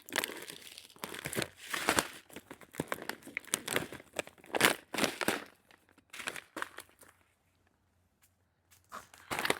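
A backpacking meal pouch is torn open and handled at a winter campsite, giving loud bursts of crinkling plastic and ripping in irregular spurts before a brief quiet pause.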